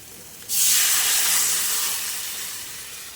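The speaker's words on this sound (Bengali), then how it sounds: "দেখো চলো আমি একটু জল দিয়ে দিই" Water poured into a hot pan of boiled potatoes hits with a sudden loud hiss of sizzling and steam, which holds strong and then slowly fades over a few seconds, with no voices.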